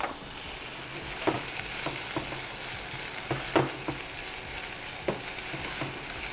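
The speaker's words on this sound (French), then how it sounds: "J'ai préparé ici donc de l'oignon ciselé et je vais venir le faire revenir doucement." Finely chopped onion sizzles gently in a hot pan on lowered heat, a steady broad frying hiss broken by occasional sharp pops and crackles, close up with no talking.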